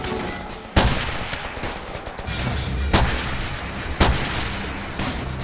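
Gunfire in the WWII shooter Call of Duty: World at War, with several loud sharp shots near 0.8, 3 and 4 seconds standing out over a continuous din of battle noise and distant fire.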